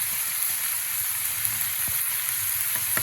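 Chili powder and turmeric stirred into a hot frying pan for a Bengali fish dish, a steady close sizzle with a few scraping stir sounds near the end, no voices.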